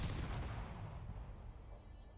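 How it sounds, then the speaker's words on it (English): A rocket launcher in Space Engineers fires with one heavy, booming blast at the start, then a long rumbling decay that fades over about two seconds, alone and fairly quiet. "I'm loving the sound of that rocket launcher."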